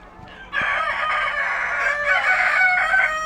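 Tiger-breed parent hens and a rooster in a farm house, with a loud, close rooster crow stretching across the moment and hens clucking around it.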